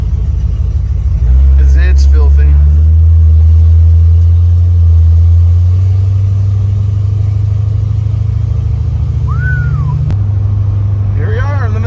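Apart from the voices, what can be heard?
1971 Dodge Charger engine driving on a test drive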